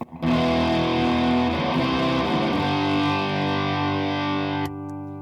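Electric guitar played through a distortion pedal modeled on a Line 6 HX Stomp or G3 Atom with the drive turned low, sustained chords ringing strongly for about four seconds before cutting off abruptly, no talking.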